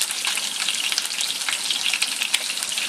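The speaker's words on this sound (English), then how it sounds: "that's popping grease all over the stove" Pork chops fry in a pan on a stove, grease crackling and popping in a dense, steady sizzle with sharp pops scattered throughout, close and loud, no voices.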